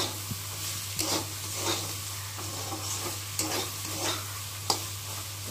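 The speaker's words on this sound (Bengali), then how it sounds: "আর এখন আমি নেড়ে দেবো। এটা হচ্ছে আলু দিয়ে, বরবটি দিয়ে ভাজা, পেঁয়াজ দিয়ে ভাজা হচ্ছে।" Potatoes, long beans and onions fry in a pan and get stirred, a steady sizzle with sharp spatula scrapes and clatters over a low, constant background hum.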